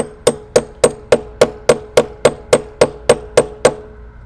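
A hammer drives a small cedar wedge shim into a barrel at a mini whiskey cooperage: about thirteen sharp, evenly spaced blows, close and loud, each ringing briefly before the next.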